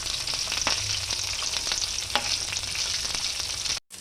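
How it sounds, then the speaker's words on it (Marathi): Chopped onion and green chilies sautéing in a hot pan for pithla, a loud, steady sizzle of frying with occasional stirring scrapes, close up and without speech, cutting off briefly near the end. "हे पहा आपला कांदा परतून झाला आहे"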